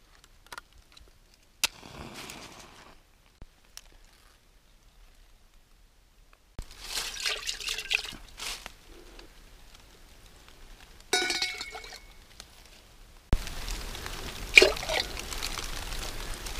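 Water collected from a mountain spring before dawn on the first day of Losar in Helambu, Nepal: intermittent pouring, trickling and splashing with faint clinks, separated by quiet pauses.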